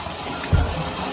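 Water gushing and splashing out of an Electrolux washer being unclogged, a brief louder surge in the middle over a steady rushing flow, close by.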